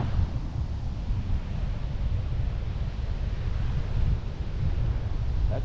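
Wind buffets a microphone on Ramsgate beach on the KZN South Coast, with ocean surf rumbling underneath, loud and continuous throughout and no voices.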